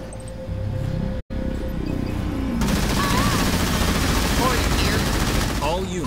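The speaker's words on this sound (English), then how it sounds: "Fire from enemy ground troops." Sustained gunfire from enemy ground troops in the Halo Wars 2 real-time strategy game, a dense, continuous rattle of weapons fire with booming impacts, mixed under game music and radio voice chatter, briefly cutting out once.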